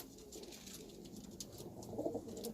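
Wild pigeons cooing close by, soft repeated low coos with a louder burst near the end, set against faint background rustle and chirps.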